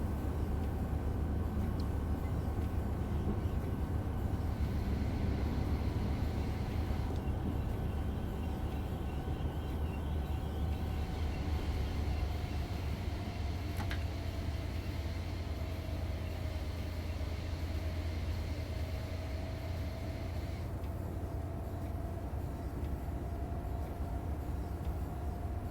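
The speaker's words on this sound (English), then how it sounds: "So let's see where we can stop this beautiful train." An ALP-45DP locomotive from Train Sim World 6 on the Morristown Line runs with a constant low engine rumble and rolling drone, a faint rising whine and one brief high click midway, steady throughout.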